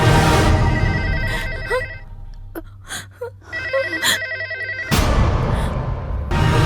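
A telephone rings loudly in two bursts of repeated electronic trills, separated by a short pause filled with quieter rustling and breath, during a tense indoor scene in a Hindi-dubbed action film.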